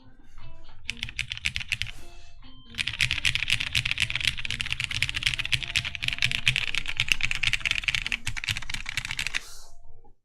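Typing on a TGR Jane V2 mechanical keyboard built on a half plate with Vintage Browns switches: a short burst of keystrokes, a brief pause, then a dense, fast run of crisp clacks heard close up for about seven seconds.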